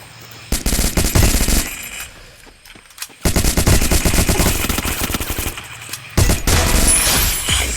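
Loud bursts of rapid automatic gunfire from the Free Fire MAX video game come in three long rattling volleys separated by short silent gaps, close and dominant with no talking.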